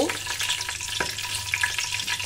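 Whole cumin, cloves, black pepper, cinnamon and a dried chilli sizzle steadily in hot oil, with a spoon stirring and scraping through the pan in a continuous close crackle.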